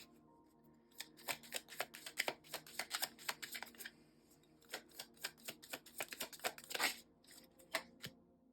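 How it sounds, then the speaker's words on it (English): Tarot cards shuffled by hand at close range, a steady run of soft riffling slaps and flicks in irregular bursts, fairly quiet with no talking over it. "let me just get one more card just so we can get something different"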